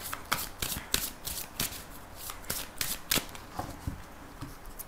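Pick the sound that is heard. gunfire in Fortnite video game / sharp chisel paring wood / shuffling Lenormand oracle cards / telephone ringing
shuffling Lenormand oracle cards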